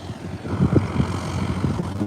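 An airplane flies overhead in cold, smooth air, its engine drone steady and moderately loud throughout, with a broad rumble and faint tonal hum and no talk.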